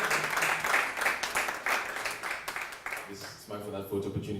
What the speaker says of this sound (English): Please give him a round of applause as he gets here.